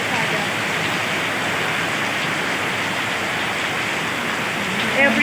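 Steady, dense rain pours down in a continuous hiss, loud and close, with no letup throughout.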